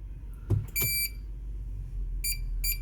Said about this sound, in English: reverse, see, it's beeping.